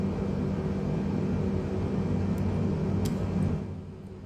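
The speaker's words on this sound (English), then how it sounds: "You can hear your engines overhead." Aircraft engines overhead in flight, heard as a steady broadband roar inside the cabin, even and moderately loud throughout before easing slightly at the end.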